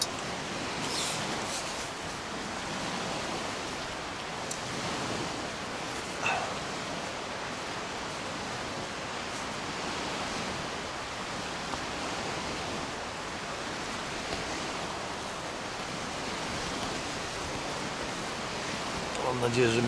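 Wind blows steadily against a tent pitched at a campsite during a bikepacking trip in Masuria, a continuous broad rushing roar with small flaps and rustles and no voices.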